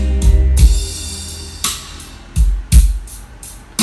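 Deep bass thumps from a Sub B3 2020 subwoofer under test, playing music in a room: heavy low-end hits recur in an irregular beat with sharp attacks, loud and close, with no talk over them.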